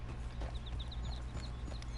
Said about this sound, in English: It's just a wonderful, wonderful horse.